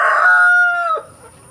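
A Black Australorp rooster crows loudly and close by, one full drawn-out call that tapers off at the end.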